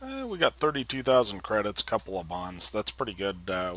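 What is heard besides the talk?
No everyday noise stands out behind the speech.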